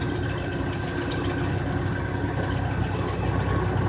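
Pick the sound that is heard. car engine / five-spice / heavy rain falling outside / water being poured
car engine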